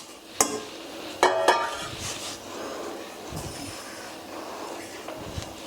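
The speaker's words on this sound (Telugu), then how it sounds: "ఇలా వేస్తూనే కలుపుకోవాలి లేదంటే గడ్డలా కట్టేస్తుంది" Madugula halwa mixture stirred in a pan over low heat, with a few sharp spoon scrapes and clicks early on, then quiet shuffling and a soft steady hiss, no one talking.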